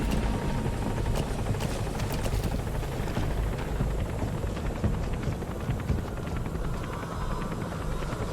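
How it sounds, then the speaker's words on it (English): A helicopter in the Metal Gear Solid V video game arrives with a dense, continuous rotor roar and rumble filling the scene at steady loudness, with no talk. "The chopper will be waiting."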